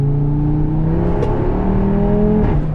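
An Audi R8's loud engine revs close by, its pitch climbing steadily as the car accelerates on an open road and then briefly dropping at a gear change.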